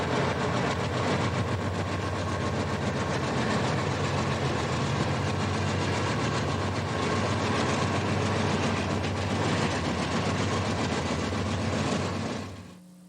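Union Pacific AC6000 convertible diesel locomotives with 4,400 horsepower engines rumble past, a deep continuous engine drone with steady rail noise that holds for the full length before fading at the end.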